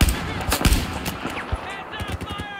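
Rapid rifle and automatic gunfire in the Battlefield 4 video game, close and loud bursts of sharp shots in uneven rhythm, with a few quieter distant reports between them.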